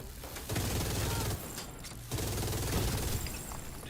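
A minigun fires in a video game, loud continuous buzzing bursts of rapid gunfire with brief pauses between streams, close and dominant.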